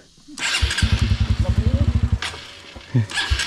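A motorcycle engine brakes on a trail, its engine close and loud in a rapid run of sharp pulsing pops and burbles that fades out, with brief bursts of a rider's voice before and after.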